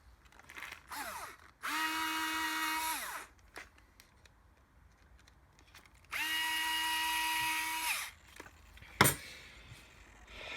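Power drill driving the front body mount screws on a TRX4 Sport RC car, two close whirring bursts of about two seconds each with a ratcheting edge, separated by quiet handling clicks and a sharp knock.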